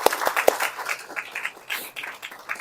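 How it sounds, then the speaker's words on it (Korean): A church congregation honoring youth-group volunteers gives a brief, light round of applause, with scattered claps that start sharp and loose and then thin out over a couple of seconds, fairly soft with no talk. "박수 보내드립니다."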